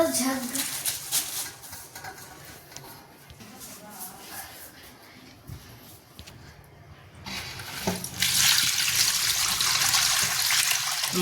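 Drumstick leaves are swished and rinsed in salted water, sloshing and splashing near at hand, growing louder toward the end while a person talks.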